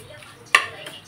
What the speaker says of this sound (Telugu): పోపు వేస్తానండి.